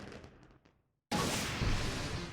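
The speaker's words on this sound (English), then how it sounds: "Get a nice little fireworks display" Fireworks display in the Wii U game Nintendo Land, Takamaru's Ninja Castle: softer game sounds and a brief silence, then a sudden loud, dense crackling burst that roars on steadily to the end.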